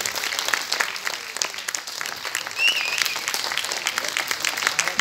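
Audience applause at a public event on clean Karnataka, steady, dense clapping from a crowd that fills the whole stretch, fairly loud and continuous, with a brief swell partway through.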